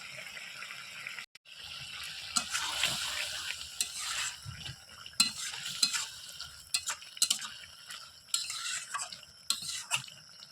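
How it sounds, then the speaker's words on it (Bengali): A spoon stirs mixed vegetables and sugar in a pan, scraping and clattering in irregular strokes over a low background sizzle, heard up close with no speech. "অল্প একটু চিনি দিয়ে ভালোভাবে মিশিয়ে নেব"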